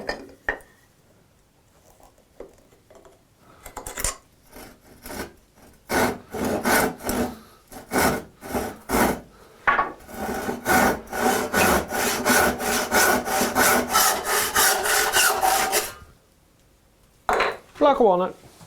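A saw cutting through a block of white oak or walnut, with steady rhythmic back-and-forth strokes that start slowly, then run in a fast, even series before stopping and resuming briefly.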